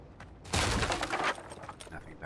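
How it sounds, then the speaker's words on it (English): Gunfire into boxes in the fantasy game Avowed, a short loud burst of impacts and crashing lasting under a second, then quieter clatter and game ambience. "I'm just gonna shoot some boxes"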